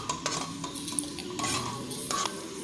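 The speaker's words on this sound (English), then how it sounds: "You have to mix it all and next put the cauliflower potatoes." Potatoes and cauliflower being stirred in a pot for veg biryani: repeated scraping and clinking of a metal spoon against the pan over a soft sizzle, close and steady, with no voices.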